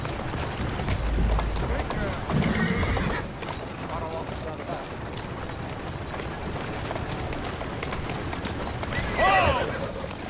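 A horse in the Assassin's Creed Syndicate video game whinnies loudly twice amid clip-clopping hooves and rumbling carriage motion, with a voice speaking softly over the scene.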